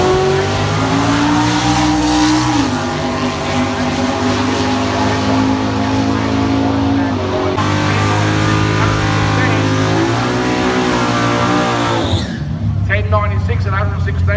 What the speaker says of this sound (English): Here we go. With the BJ Chrysler Ute.